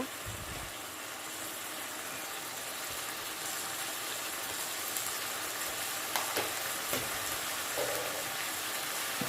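Spices frying in a pan with ginger, green chili, tomato, turmeric and cumin powder: a steady, close sizzle continues throughout, with a few light clinks near the end and no talking.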